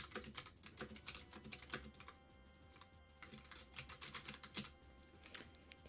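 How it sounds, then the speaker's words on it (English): A loud computer keyboard is typed on rapidly and continuously, with close, crisp, irregular key clacks and a few heavier strikes, no voices present. "you guys want to hear what my loud keyboard sounds like?"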